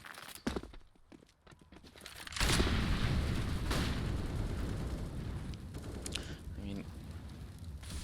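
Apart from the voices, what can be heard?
gunfire with a Deagle in Counter-Strike video game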